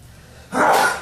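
A single sneeze bursts out sharply after a quiet half second of room hum during a city government meeting, loud and close.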